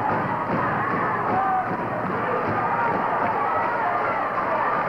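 A wrestling arena crowd cheers and murmurs in a dense, steady roar throughout, with a commentator's voice mixed in.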